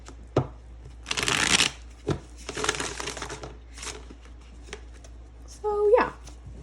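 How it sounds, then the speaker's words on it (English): Tarot cards are shuffled in quick riffling bursts, close and crisp, with a few taps and rustles between them and a faint voice near the end. "I shuffle constantly"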